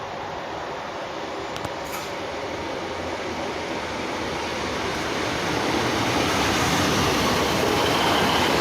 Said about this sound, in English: Incoming now receive a 12:12 East Midlands Railway service to Newark Castle